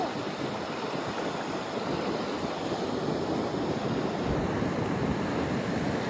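Sea waves at Neil Island, a steady wash of surf and wind noise with no clear pauses, continuous and moderately loud throughout.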